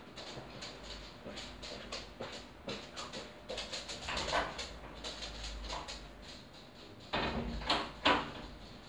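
A door is handled indoors to let a small dog out, with scattered knocks, clicks and scraping in an irregular run, a louder clatter toward the end, all fairly close and without speech.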